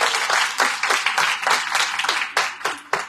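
Church congregation clapping for the pastor at a Third Advent Sunday service, loud rhythmic bursts of many hands in a pulsing pattern, close and energetic, with no talk over it.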